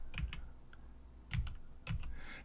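Someone types on a computer keyboard in short bursts of soft plastic key clicks, three small clusters separated by quiet pauses, close and fairly faint with no talking.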